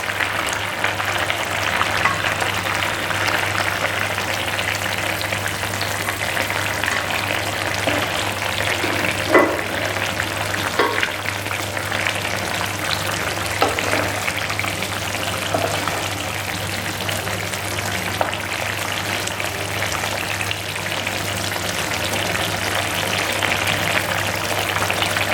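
Fish slipped into a simmering pan of curry sets off a steady, moderate frying hiss that runs continuously at close range with a low background hum.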